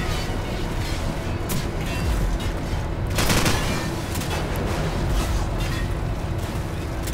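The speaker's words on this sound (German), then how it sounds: "jetzt bin ich weg von diesem Schuss da. Von diesem Schussfeuer." Gunfire in the video game Call of Duty 4 Modern Warfare during a base assault, rapid volleys of shots and bursts with a louder blast midway, dense and continuous with game ambience.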